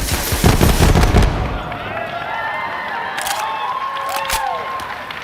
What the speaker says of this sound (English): But if we switch our alternate firing modes, we fire off micro missiles.